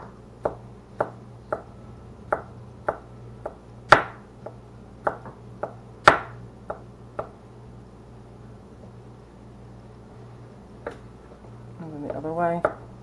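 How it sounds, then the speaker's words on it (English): A knife chopping an ingredient very finely on a cutting board for crab rangoon, a steady run of close, crisp taps followed by a pause and a brief scrape at the end. "then you're gonna chop this up very fine"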